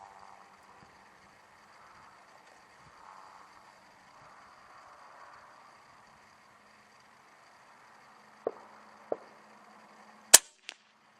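Factory ammunition fired at a 50-yard range: faint background hum, then a few sharp reports near the end, with two fainter cracks leading into one loud shot and a quick follow-up.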